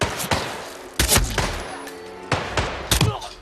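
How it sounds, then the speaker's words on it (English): Several loud, sharp gunshots ring out in a Hitman III game firefight, arriving as irregular single cracks and short bursts spread across the moment, with no talk over them. "Gunshots in the vicinity."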